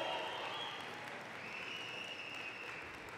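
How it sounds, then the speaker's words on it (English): Sustained applause from graduates filling a hall at a university fall convocation ceremony, a steady dense wash of clapping with a faint tone running through it and no voices over it. "reciprocate by applauding your family, friends, faculty, and staff"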